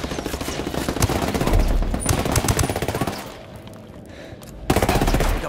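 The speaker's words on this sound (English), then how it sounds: "Taking heavy fire here." Rapid machine gun fire in the Tom Clancy Ghost Recon shooter game, dense rattling bursts that ease off briefly before a fresh loud volley at the end.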